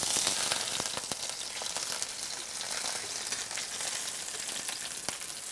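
A plaice fillet, freshly turned in a well-seasoned pan, sizzles and fries steadily with a dense, even crackle, punctuated by a few sharper pops of spitting fat.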